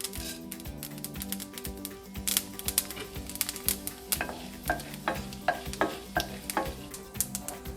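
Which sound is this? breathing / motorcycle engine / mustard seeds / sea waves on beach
mustard seeds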